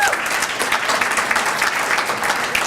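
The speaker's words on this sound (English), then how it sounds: "Yeah, you can clap for that." A church congregation claps during a Sunday service, a dense, steady round of applause from a crowd of a few hundred, close and loud with no speech over it.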